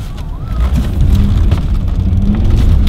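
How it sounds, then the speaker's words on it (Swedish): A Jaguar XJ X350 idles and rolls low and close while its steering is turned from lock to lock, a steady rumble with faint creaks and whines over it and no talk. "Man svänger ratten så mycket man kan mellan fulla stopp när man kör."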